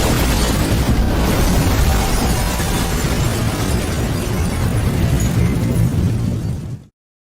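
A loud explosion sound effect from an animated battle scene roars as a sustained, dense blast that fills about seven seconds and then cuts off abruptly to silence.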